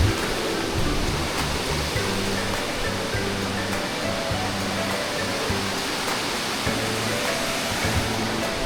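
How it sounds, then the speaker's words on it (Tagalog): A broad, constant rush of flowing water fills the scene, loud and unbroken, like a river running close by. "akala namin umuulan pero hindi talaga. Ilog lang talaga"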